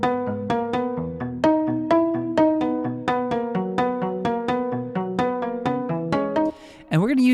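Loft Pizzo, a sampled Loft piano preset, plays a gentle repeating pattern of plucked, bell-like notes over a low bass line, close and clean, ending with a brief sliding sweep.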